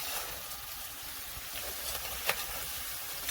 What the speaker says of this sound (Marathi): कांदा आपण परतोय कलर थोडासा लालसर येतोय